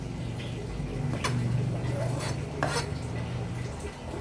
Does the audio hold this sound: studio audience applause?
no